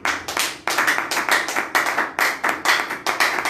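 A church congregation claps together in quick, rhythmic bursts, loud and close, with no speech over it.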